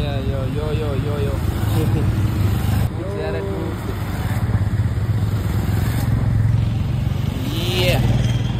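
Motorcycles of passing bikers on a mountain road near Manali, engines rising and fading as several machines ride by, loud and close, with someone talking and calling out over the noise.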